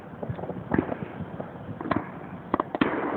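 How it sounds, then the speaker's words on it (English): Fourth of July fireworks burst over downtown Indianapolis, heard from across Eagle Creek Reservoir as scattered muffled booms and pops at an irregular pace, distant and soft. "the downtown fireworks are going off."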